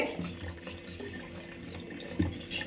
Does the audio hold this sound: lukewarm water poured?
yes